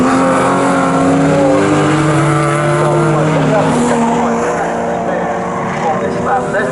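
A race car howls past at a club enduro race at Snetterton, a loud engine note that shifts in pitch as it goes by, with a commentator talking over it.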